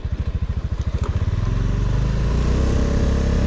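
A Honda Dio 110 fuel-injected scooter engine starts with a quick chugging crank, then settles into a steady, quiet idle close by, with no talk.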